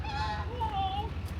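Geese honk in a short, near sequence of nasal calls against a steady low background hum, with no talk heard.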